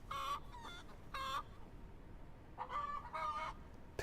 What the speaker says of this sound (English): It comes with chickens.